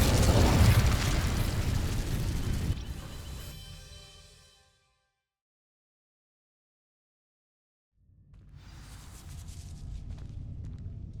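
An Incendio fire spell in Hogwarts Legacy sets dry vines alight with a loud roaring whoosh that fades into silence, followed by a low rumbling swell of flame or ambience.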